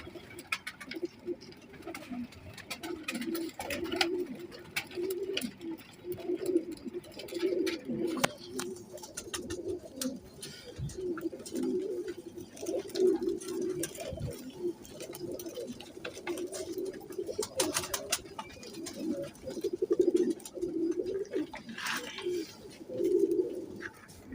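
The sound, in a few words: pigeons cooing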